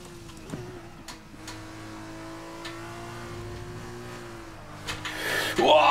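An F2 race car engine at the Bahrain circuit in a racing video game holds a steady, moderate drone that rises into a louder, higher rev near the end.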